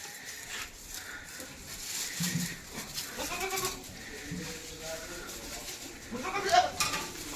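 Goats bleat repeatedly while feeding on onion greens, several close calls spread across the scene, with someone talking over them.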